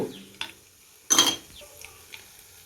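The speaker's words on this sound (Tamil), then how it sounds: "ஸ்டவ்வை லோ ஃப்ளேமில் வச்சு நல்லா வதக்கி எடுப்போம்" Whole spices such as cinnamon, bay leaf, star anise and cloves being fried in a pan over a low flame, quiet sizzling broken by a few short stirring scrapes and one louder clatter.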